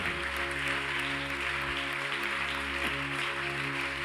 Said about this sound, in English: You clap those hands,